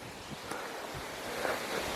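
Steady, broad rushing wind buffets the microphone with low rumbling gusts throughout, loud and continuous with no voices, in a village in the Pereiaslav area after a fire destroyed houses and forest.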